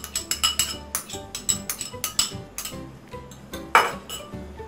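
A utensil mixing tomato stuffing of ricotta, black pepper, oregano, chopped parsley and chopped olives in oil, in a bowl, with a rapid series of close clinks and taps against the bowl.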